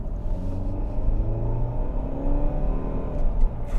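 A hybrid car engine rumbles and hums steadily as the vehicle speeds up, with a smooth, rising drone and no talking.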